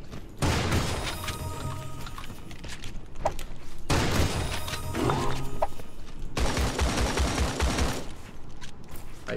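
Gunfire in the mobile shooter Creative Destruction, heavy and continuous, with three long dense volleys of rapid shots, loud and close, with brief gaps between them.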